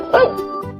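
A cartoon dog sound effect from giant cartoon creatures splashing into a fountain: one short, bright bark-like yelp, close and alone, lasting under a second.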